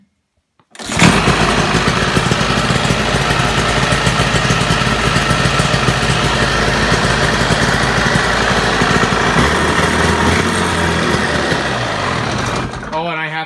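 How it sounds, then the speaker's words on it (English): A Ski-Doo Olympic 399 twin snowmobile engine starts after a brief pause and keeps running at a steady, loud, buzzing idle close by, with a slight change in tone near the end. "So anyway, we'll give it one last start up."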